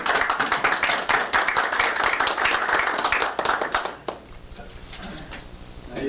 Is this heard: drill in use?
no